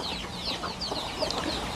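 Chickens cluck and chatter busily at feeding time on a rural farm, several birds close by with overlapping short calls and no talking.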